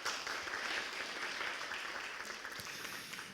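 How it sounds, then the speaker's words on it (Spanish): Steady audience applause at a panel on ethnic-racial diversity in cultural institutions, welcoming a deputy director; a dense wash of clapping that holds level for the whole stretch and then tapers slightly. "un aplauso para ella"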